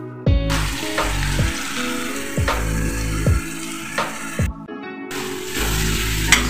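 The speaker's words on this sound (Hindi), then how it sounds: "इसको अच्छे से फ्राई करेंगे" Chopped onions and tomatoes fry with whole spices in a pan for a spicy chicken curry, producing a steady, close sizzle with periodic bursts as the mixture is stirred.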